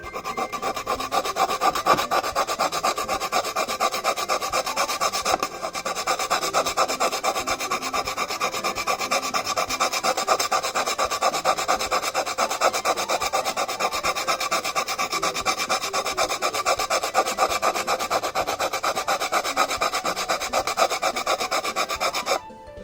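Sandpaper rubs steadily across a wooden table tennis penhold blade in a continuous, fast back-and-forth rasp, close and loud, with one brief pause partway through.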